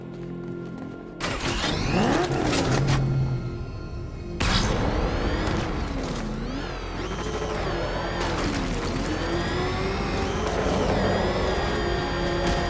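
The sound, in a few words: car driving in Batman Arkham Knight video game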